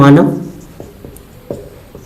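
Pen strokes from writing out a Class 10 maths solution on heights and distances follow a brief voice; the scratches and taps come as faint, scattered ticks at an uneven pace.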